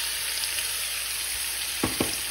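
Ground spice paste frying in hot oil with cumin seeds, a steady close sizzle with two brief louder stirring scrapes near the end.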